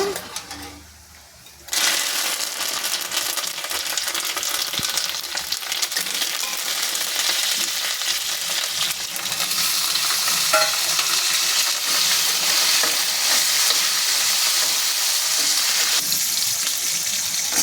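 Urad dal frying in hot oil for a tempering, made for a coriander chutney: a quieter opening, then a steady, loud, close-up sizzle that runs without a break to the end.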